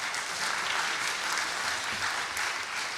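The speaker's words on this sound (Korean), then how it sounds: "박수로 환영하겠습니다." A church congregation at a Friday prayer meeting claps to welcome the pastor, producing a steady, dense wash of applause that stays even throughout with no talking.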